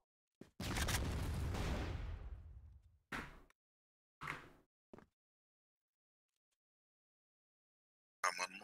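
A grenade detonates in the online shooter CrossFire, a sharp boom with a decaying rumble, followed by a few short gunfire-like bursts and clanks separated by silence.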